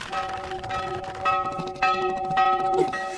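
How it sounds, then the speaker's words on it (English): A bell rings repeatedly in a scene from The Rings of Power, its steady tolling tones carrying over a busy background of other sound for the whole stretch. "So that bell starts going off, right?"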